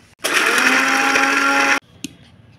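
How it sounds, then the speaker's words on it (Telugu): A kitchen mixer grinder runs a single whirring burst of about one and a half seconds while grinding coconut with chili powder and salt for stuffed brinjal curry, then stops abruptly, followed by a faint click. "ఇప్పుడు వీటిని మిక్సీ చేసుకొని"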